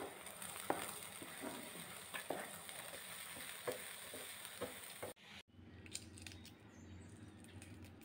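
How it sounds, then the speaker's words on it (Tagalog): Rice and carrots sizzling in a pan as they are sautéed, a steady close frying hiss broken by occasional stirring scrapes, with a brief gap partway through. "Magigisa tayo na arroz at saka carrots."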